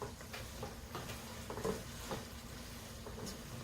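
Vegetables for coq au vin brown in a pan with a continuous soft sizzle and light patter, faint and even, with occasional stirring scrapes.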